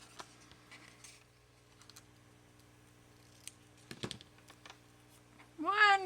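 Scissors snip through paper to cut out a paper feather, giving a few quiet, close, scattered clips in an otherwise hushed room, followed by a brief louder rising cry at the very end.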